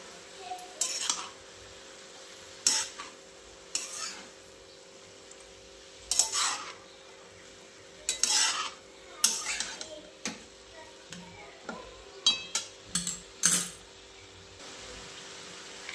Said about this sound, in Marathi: आता व्यवस्थित हलवून घेते एकदा.